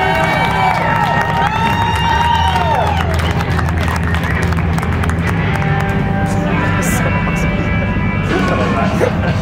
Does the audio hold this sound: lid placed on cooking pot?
no